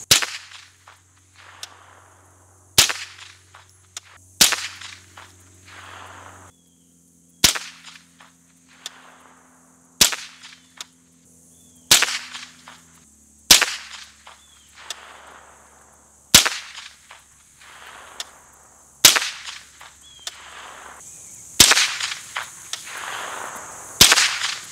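Suppressed .22 rifle firing about a dozen sharp, cracking shots spaced a second or two apart outdoors, each followed by a short decay, with no talking.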